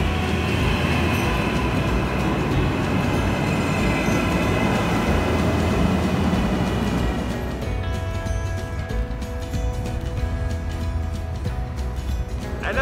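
A train on the Padova to Milano line rumbles steadily at a station with broad, continuous rail noise, easing to a quieter hum with faint squeals in the later seconds.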